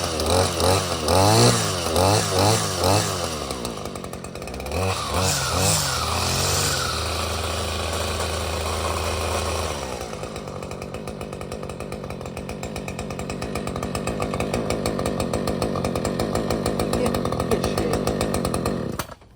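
A Husqvarna 535LS chainsaw starts on choke and runs, loud and close, with rising and falling revs early on, then settling into a steady high buzzing drone that grows slightly louder toward the end.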